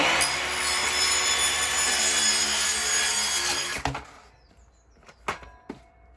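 A saw rasps steadily through a PIR insulation board for several seconds, close and loud, then stops; a few sharp knocks follow as the cut pieces are handled.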